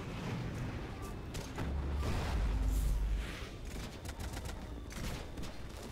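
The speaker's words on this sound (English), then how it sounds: "Grenade launcher is too good." Grenade launcher fire and surrounding gunfire in the war game Running with Rifles, a dense stretch of rapid shots and heavy booms, with a deep blast swelling in the middle before the firing continues.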